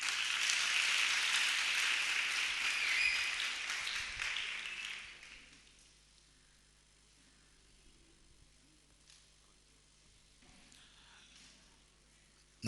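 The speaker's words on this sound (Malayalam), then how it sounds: "വയറ് നിറച്ച ആഹാരം കിട്ടിയെങ്കിൽ നല്ലൊരു കൈയടിച്ച്." Audience at a youth camp's closing session breaks into loud applause that carries for about five seconds, then fades out, leaving quiet room tone with a few faint scattered knocks.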